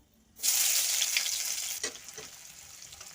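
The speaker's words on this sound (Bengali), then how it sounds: "কড়াইতে আমি সরষের তেল দিলাম তেলটা গরম হয়ে গেছে আমি ফোড়নে দুটো এলাচ দিলাম অল্প পাঁচ ফুটন দিলাম কুচিয়ে রাখা পেঁয়াজগুলো দিয়ে দিলাম" Chopped onions hit hot mustard oil seasoned with cardamom and panch phoron in a kadai, bursting into a loud, close sizzle that settles to a quieter fry, with a couple of stirring scrapes.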